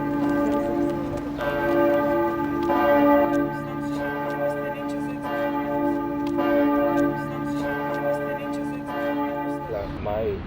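Church bells peal continuously and loudly, with overlapping strikes forming a steady, rich ringing that swells and fades slightly before cutting off near the end.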